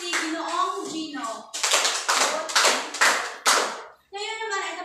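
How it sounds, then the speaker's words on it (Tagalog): A classroom group claps in five synchronized beats, loud and close, after a speaker briefly talks at the start; a voice resumes speaking at the end. "Bigyan natin ng 5 palakpak si Ginoong Gino."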